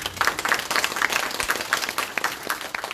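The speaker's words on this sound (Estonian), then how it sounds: "Teeme ühe tugeva aplausi, et te olete olemas" Around thirty members of a cooking club in Haapsalu give a lively round of applause, uneven bursts of clapping close by with a faint voice or two mixed in.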